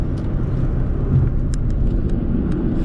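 Steady deep rumble of a Dodge Charger SRT8 with its 6.1 V8, a loud continuous idle-like drone close by with a few faint clicks on top.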